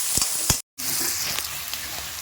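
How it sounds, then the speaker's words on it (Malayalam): Chopped onions sizzle and fry in a hot pan for a Kerala-style squid roast, a steady close crackling hiss with a few louder pops and one brief dropout. "ഉള്ളി വഴന്നു."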